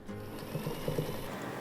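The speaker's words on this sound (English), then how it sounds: "Di, do I still hear your sewing machine humming along?" A Featherweight sewing machine hums steadily at low volume while a quilt block is pieced, with faint rhythmic mechanical pulses running through the short stretch.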